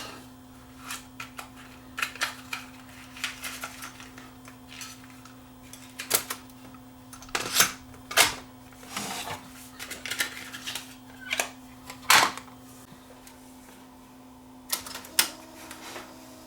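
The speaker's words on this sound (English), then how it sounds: "Let's try playing a tape." A JVC KDV300 cassette deck mechanism clicks and clunks through a string of sharp mechanical snaps and thumps over a steady motor hum, the clicks coming irregularly close by.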